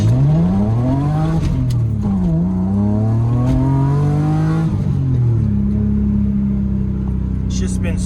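A BMW E30 with a newly installed limited slip differential drives gently, its engine droning close and loud with smooth rising and falling pitch through gear changes, steady throughout, with talking over it.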